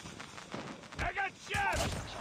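Gunfire in Call of Duty Mobile, heard as a few short bursts of shots in quick succession over quiet game ambience, moderately loud and close.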